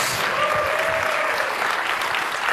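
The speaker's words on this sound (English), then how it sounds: "With a round of applause." Dense, steady applause from a large conference audience at Google I/O 2014, loud and continuous throughout with no gaps.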